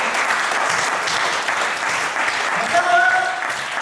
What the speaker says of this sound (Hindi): आप तो बहुत अच्छा सुन रहे हो, एक बार ताली बजा लो।